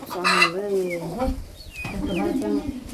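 Chickens on a farm cluck and squawk in short, fairly close bursts while someone talks over them.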